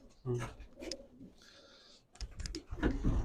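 Pigeons cooing at a pigeon show, soft low coos close by, broken up by someone talking nearby.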